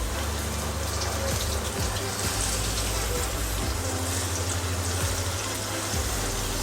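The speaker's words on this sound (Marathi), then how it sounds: "तेल तापलेलं आहे, इथे कांदा टाकते" Onion frying in hot oil for a tadka sputters with a soft, steady, close sizzle over a low hum, with a few faint clicks and no talking.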